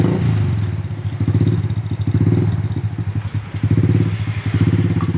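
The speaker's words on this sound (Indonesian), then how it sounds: "Keren ya motornya Bu ya." Close, loud motorcycle engine running with a rough, pulsing putter that swells and dips in rhythmic surges, recorded outdoors.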